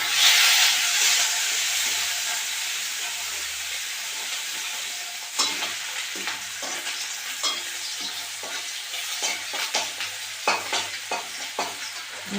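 Cardamom, cinnamon, chopped onion and garlic fry in hot oil with a steady sizzling hiss, broken by repeated scraping stirs of a spoon in the pan; no one speaks.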